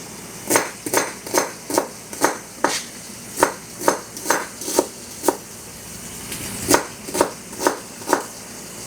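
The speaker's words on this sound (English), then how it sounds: "Just cut your onions" Knife chopping onions on a cutting board at home, a steady series of sharp, close chops in short bursts with brief pauses, no voices over it.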